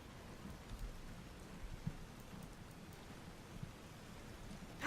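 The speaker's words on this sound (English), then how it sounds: "Love the rain. I do so enjoy rain." Soft, steady rainfall patters continuously and fairly faintly in Fallout: New Vegas, an even hiss with small scattered drops and no voices.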